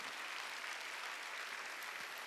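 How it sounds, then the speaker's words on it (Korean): Church congregation clapping during Korean Sunday worship, a steady wash of applause sustained evenly throughout without any voices. "박수로 하나님께 영광하리라."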